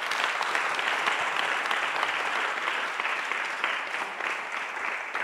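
A church congregation applauds during a Divine Liturgy, dense, sustained clapping from many hands filling the space for several seconds without a break.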